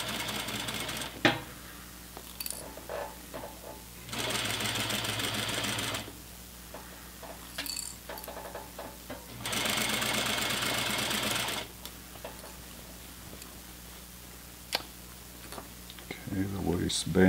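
A sewing machine stitches a waistband onto a pair of pants with elastic back and slant pockets, running in two steady bursts of about two seconds each between pauses, with a voice talking over the gaps.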